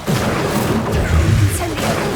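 Incendio fire spell cast in the Hogwarts Legacy video game: loud, dense fiery bursts and crashing booms fill the whole stretch, with a heavier surge in the middle.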